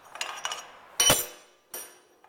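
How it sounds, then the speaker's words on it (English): An air power hammer strikes hot steel while forging a tong offset, giving a few sharp metallic blows: light taps first, then one heavy hit and a later strike, each ringing briefly before decaying. "the top die on the air hammer comes down, and it stops right here on this kiss block"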